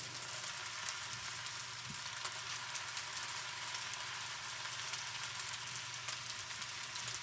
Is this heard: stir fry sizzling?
yes